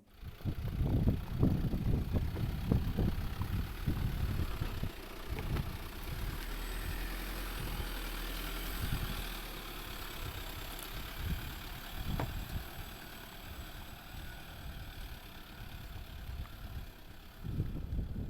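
Toyota Fortuner 4x4 on the Kippersol Garden Route off-road trail: a low engine rumble at a distance, swelling and easing as it drives, with faint wind over the background.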